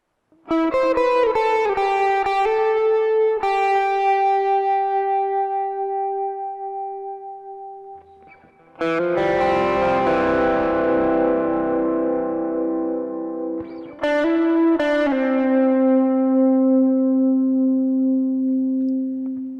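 Electric guitar plays a lead phrase of bent, sustained notes with a light, slightly gritty overdrive and some reverb, ringing out between phrases.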